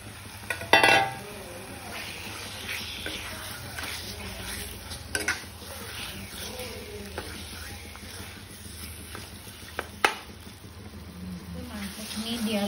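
Pieces of local chicken fry in hot oil in a pan while being stirred: a continuous crackling sizzle with occasional sharp metal scrapes and clinks from the spatula, and someone speaking over it.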